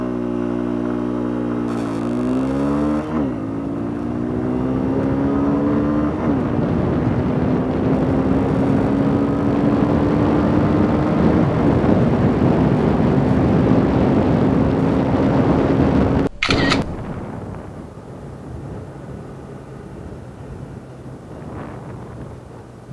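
Honda XRE190 motorcycle accelerating from 0 to 100 km/h, a quick gear change followed by a long rising engine whine under heavy wind buffeting, which then cuts off to quieter rolling noise.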